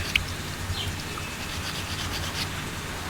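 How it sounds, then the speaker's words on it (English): Heavy-grit sandpaper rubbing over a soapstone carving, a faint soft scratchy rasp with a small click near the start, quiet and steady. "With this really heavy grit sandpaper, you can actually sand more away than you really want to if you're not careful."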